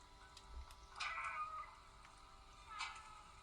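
Cat meows in the video game Stray, two short, fairly faint mews a couple of seconds apart over quiet game ambience and a low hum.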